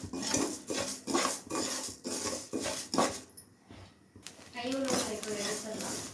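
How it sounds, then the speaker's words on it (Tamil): Sago pearls roast in a pan for mango kheer, stirred with a utensil that scrapes and clinks rhythmically against the metal. The close, repeated strokes run under a person talking. "ஜவ்வரிசி வந்து கொஞ்சம் பொரிஞ்சு வர வரைக்கும் வறுத்திங்கன்னா வறுத்துட்டு வேக வச்சுக்கலாம்"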